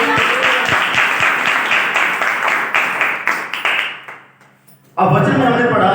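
A church congregation claps in praise during a worship song, with steady rhythmic handclaps that grow softer and stop, followed by a sudden wash of crowd noise.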